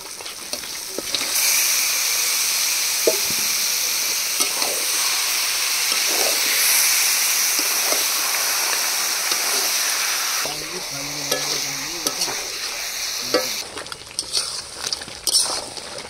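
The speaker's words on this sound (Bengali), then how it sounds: "এবার কেটে রাখা মাংস দিয়ে দেবো। মাংসগুলো দিয়ে কষিয়ে নেব।" Duck meat pieces frying in a village-style spiced masala, a steady loud sizzle and hiss of hot oil and steam running continuously, with occasional stirring scrapes and a quieter, more broken sizzle near the end.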